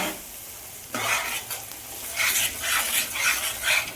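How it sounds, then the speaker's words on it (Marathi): Beaten eggs for dhaba-style egg bhurji with black masala, stir-fried in a pan, giving a steady close sizzle with repeated spatula scraping strokes. "इथे मी अंडे फोडून घेतलेले ओतणार आहे तर अशा पद्धतीने मी इथं परतून घेत आहे"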